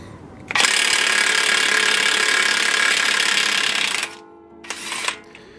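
An Earthquake impact wrench works a staked axle nut off a BMW, hammering loudly and steadily up close for about three and a half seconds, then stopping before a second brief burst.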